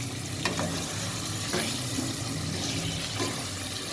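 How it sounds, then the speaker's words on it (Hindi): Chicken liver frying in a pot, giving a continuous close sizzle and crackle with occasional stirring scrapes, steady in level. "फ्राई के लिए मैंने देख में डाल दिया है"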